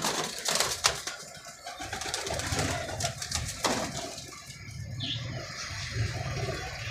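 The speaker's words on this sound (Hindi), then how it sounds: "सारे रंगीन कबूतर हैं माशाल्लाह" Several pigeons offered for sale coo softly and steadily at close range, with some light rustling and bird movement behind them and no voices.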